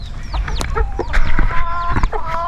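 A big flock of happy chickens scratching around, clucking and squawking loudly and close by in quick overlapping calls, with no talk.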